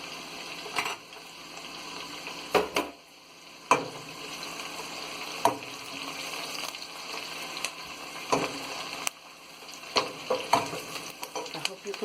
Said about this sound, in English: So we're gonna let this fry for about 5 minutes.